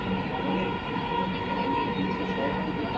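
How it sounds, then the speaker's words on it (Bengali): Continuous rumbling hum of a Dhaka Metro Rail train running on elevated rails between Uttara Center and Uttara South, steady and enclosed, heard from inside a carriage. "ঢাকা মেট্রো রেলের উত্তরা সেন্টার থেকে উত্তরা দক্ষিণ যাওয়ার সময়"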